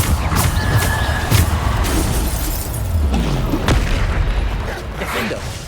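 Spell explosions from Bombarda in Hogwarts Legacy go off as several heavy booms and crashes mixed with game effects, arriving in bursts over a busy combat soundscape.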